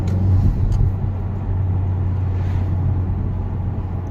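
Cabin view of a 2019 Honda Civic Type R with a blow-off valve and stock exhaust, driven with windows up: a loud, steady low engine drone and road rumble, no talking.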